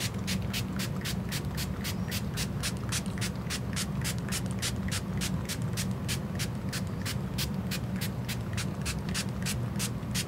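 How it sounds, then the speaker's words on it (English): Continuous hissing of aqua spray paint with a steady rapid ticking rattle throughout, like a spray can being shaken and sprayed at close range. "We're just gonna spray it all over."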